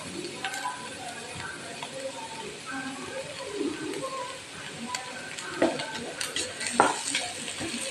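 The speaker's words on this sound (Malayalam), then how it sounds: "നമുക്കൊന്ന് ഇളക്കി കൊടുക്കണം ഇച്ചിരി കറിവേപ്പിലയും കൂടി ഇട്ട് കൊടുക്കാം" Pieces of liver fry in a pan with curry leaves while being stirred: a steady close sizzle runs throughout, broken by irregular spatula scrapes and clinks against the pan, with no talking.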